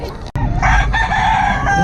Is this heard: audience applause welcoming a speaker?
no